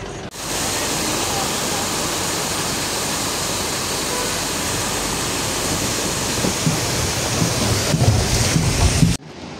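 The Kali river in Kalikot, Karnali, rushes in a loud, unbroken roar of churning water, with a faint knock near the end.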